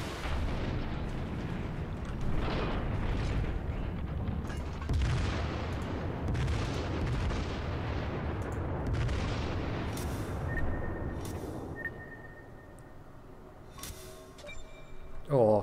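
A naval gun salvo in World of Warships, heavy repeated booms rolling into a dense low rumble that fades later into quieter game sounds with faint tones and clicks.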